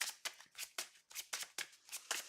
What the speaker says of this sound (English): Then we're going to shuffle our deck.